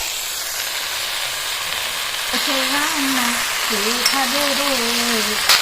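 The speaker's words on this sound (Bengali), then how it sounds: "সবজিগুলো পুরোপুরি ভাজা হয়ে গেছে পুরো কুচনে শাকগুলো দিয়ে দেবো" Vegetables and chickpea greens sizzle in a pan with a steady, close hiss; partway through, a voice talks over the frying.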